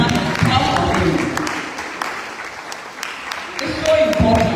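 Scattered clapping spreads through a church leadership conference crowd, moderate and uneven, dipping in the middle before swelling again, with voices audible over the claps at the start and end.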